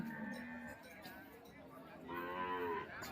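Cattle mooing at the Ban Han livestock market in Maha Sarakham, Thailand, two drawn-out low moos at moderate distance with people's voices and market chatter faintly behind.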